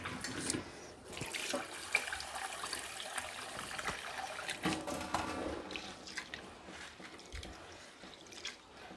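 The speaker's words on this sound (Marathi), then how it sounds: "हलक्या हाताने दोन तीन पाण्याने धुवून घ्यायचं आहे आणि पाणी काढून टाकायचं" Idli rice rinsed by hand in a bowl of water: soft sloshing, swishing and dripping noises up close, irregular and fairly quiet, with no speech.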